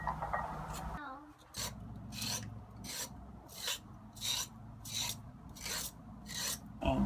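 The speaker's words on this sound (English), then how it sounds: "First thing we need to do is scrape the carrots" A knife scrapes raw carrots in a steady run of rasping strokes, roughly one per half second, close and fairly loud, with no one talking.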